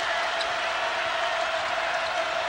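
Basketball arena crowd roaring after a three-pointer in a Pitt Panthers at West Virginia Mountaineers game, a dense, sustained wash of cheering and noise at even loudness for the whole stretch.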